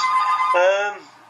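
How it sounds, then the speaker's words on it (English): A mobile phone ringtone plays loudly and steadily as a tonal, melodic ring for about a second, then cuts off. "you'll have to excuse my phone. I shall answer that in a moment"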